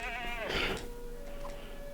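A goat bleats in the LEGO The Hobbit video game, one wavering, harmonic cry lasting under a second before fading into quiet game ambience.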